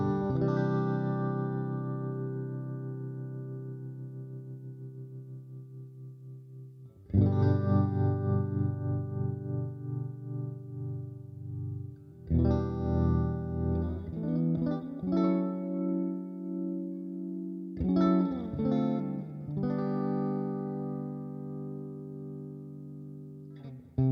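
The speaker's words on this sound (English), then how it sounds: "This reverb has a very resonant peak somewhere in the mid-range" An electric guitar plays through a Jimi Hendrix amplifier model in Amplitube 5 with a JH1200 reverb, sustained chords and note runs ringing out in bursts, the lingering reverb tail colouring each phrase with a resonant midrange.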